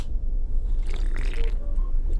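A player drinks almond water in a Backrooms video game, giving a short series of wet gulping, liquid sounds over a low background rumble.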